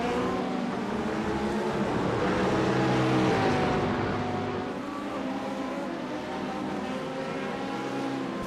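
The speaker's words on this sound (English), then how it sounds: "Flat 6 in the Porsche, no match for the V8 of the Mustang." Porsche flat-six and Ford Mustang V8 race cars in a multi-class sim racing event at Algarve, engines droning steadily with layered harmonic whine and shifting pitch as cars run close together, loud and continuous with no talk.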